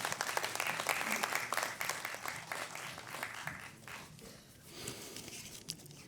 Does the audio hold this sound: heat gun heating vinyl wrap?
no